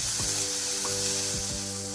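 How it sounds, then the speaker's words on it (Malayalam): Chopped onions fry in a pan for a Kerala yam curry, giving a steady, close sizzle throughout with a few faint clinks and scrapes over the top. "ഇതിൽ നമുക്ക് സവോള ഇട്ട് കൊടുക്കണം. അരിഞ്ഞു വെച്ച സവോളയുണ്ട്. സവോള നന്നായിട്ട് വഴന്നു വരണം."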